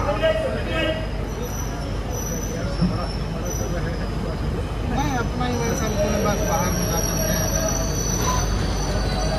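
Train pulling into platform 1 at Raichur Junction in a crowded station, brakes and wheels squealing high over a heavy rumble, with a crowd's voices underneath and close by.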